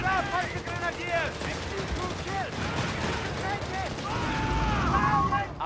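Rapid bursts of gunfire and distant explosions fill a Company of Heroes 3 battle in the North African campaign. A voice speaks over the steady combat din, and music or sirens rise briefly.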